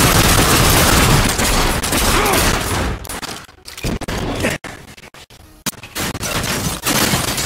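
Dual guns fire in the video game The Darkness II as a loud, dense fusillade of rapid shots that fills the first three seconds, then breaks into scattered bursts and single cracks.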